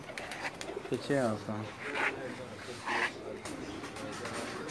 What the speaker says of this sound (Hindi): बहुत खूबसूरत टैडी कबूतर है जी